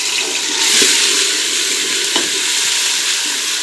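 Spices frying for a lentil masala in a pan, a steady loud sizzle with occasional stirring scrapes, close and continuous with no talking.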